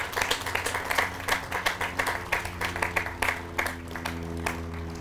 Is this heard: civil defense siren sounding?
no